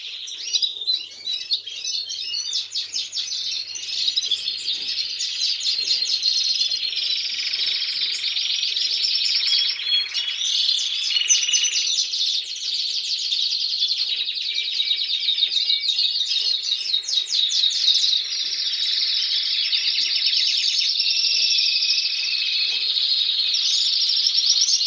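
Canaries sing in a dense, continuous chorus of bright trills, rapid warbles and high chirps, loud and close, overlapping without pause and with no talking.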